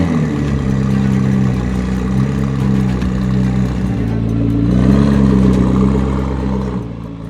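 A 2014 McLaren P1 with an official McLaren special exhaust rumbles deep and throaty, steadily and loudly throughout, swelling slightly as if revved, with no voices present.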